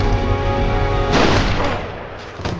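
Heavy gunfire from a film scene in a forest, a loud close burst of booming shots with a sharp blast midway and a further crack near the end.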